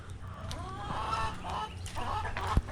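Welsummer chickens in a backyard coop cluck and murmur softly in short, irregular calls, with a louder sharp note near the end. The flock is close by and no one talks over them.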